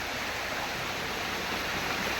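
A rocky mountain stream rushes steadily over stones, a dense continuous wash of water close by with no voices.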